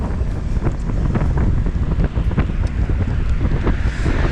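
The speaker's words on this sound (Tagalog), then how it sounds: "Grabe ang hangin." Strong wind buffets the microphone outdoors during a ride in Chicago, making a loud, continuous rumbling roar with gusty surges throughout and no talking.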